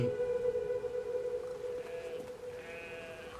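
A synthetic-sounding sheep bleat from the video game Brothers: A Tale of Two Sons rises and wavers over a steady hum, with a second higher bleat following shortly after.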